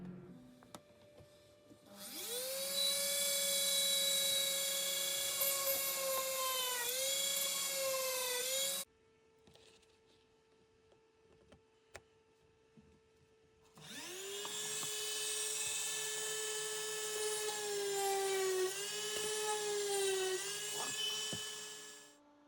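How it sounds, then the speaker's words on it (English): A power drill pre-drills with a 2 mm bit while building a 5 m ASW15 RC glider wing. Two sustained, high whining runs of several seconds each are separated by a quieter pause. The drill is close and loud, with no talking. "I pre-drill with 2 millimeters bit."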